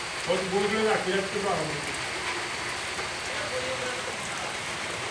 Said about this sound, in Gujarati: આ વરસાદ ચાલુ થઈ ગયો છે ફૂલ એકદમ જોઈ લો અચાનકથી